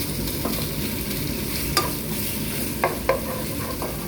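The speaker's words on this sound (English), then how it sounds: "so this one you try to stir them and cook them for maybe 3 minutes" Galangal and lime leaf stirred and cooking in a pot for Lao fish noodle soup, a continuous close sizzle with a few sharp scraping knocks of the utensil against the pan, no voices.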